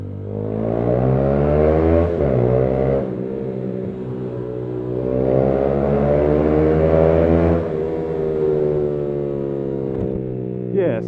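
A Yamaha YBR motorcycle fitted with a Leo Vince exhaust, baffle removed, revs up and down in long sweeping pulls, a loud, close, throaty drone rising and falling several times.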